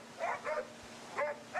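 Hunting dogs bark in short, repeated yelps during a wild boar hunt, coming in two pairs of quick barks at moderate distance outdoors.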